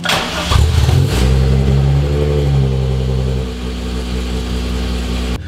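A car engine, tested for exhaust flames, starts and then drones loudly with rising and falling engine tones before settling into a steady idle-like hum; no voices.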